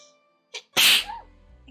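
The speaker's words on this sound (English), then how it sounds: "Also, I'm gonna sneeze." A single loud, close human sneeze bursts out after a short sharp intake of breath, followed by a brief quieter vocal trailing sound and a faint low hum.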